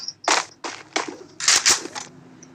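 Gunshots in a video game, a rapid series of about six sharp cracks, close and punchy, spaced irregularly over a couple of seconds with a quiet game background between them.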